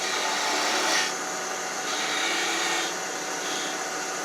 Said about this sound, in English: You can turn a little tiny tail, somewhat kind of a caricature tail.